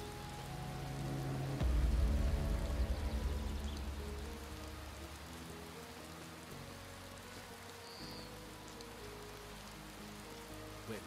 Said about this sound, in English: You know it's raining, right?